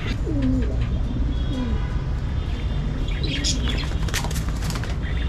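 Doves coo in low, soft bursts close by while being handled, with wings fluttering and scuffling around them and a few faint chirps.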